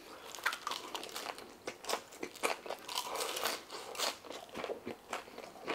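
Costco fries being bitten and chewed up close, with a quick string of crisp crunches and crinkly chewing across the whole stretch, and no talking over it.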